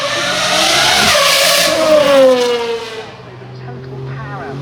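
A Lamborghini Huracán supercar races up the Goodwood hill climb, a loud engine roar that climbs in pitch as it passes close by, then fades into the distance, with people talking nearby.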